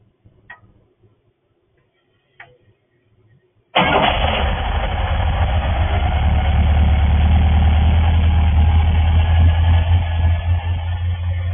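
Crusader 454 marine engine fitted with a Holley carburetor: a couple of faint clicks, then it fires up abruptly and settles into a loud, steady, close-up idle that runs to the end.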